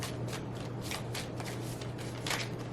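Cards riffled and shuffled close by in repeated soft bursts over a steady low hum, no voices.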